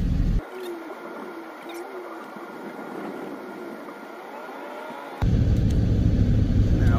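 Buick Rendezvous driving in cold weather while its heater is being checked: a loud low road rumble that drops to a quieter steady cabin hum for several seconds, then swells back to a heavy rumble.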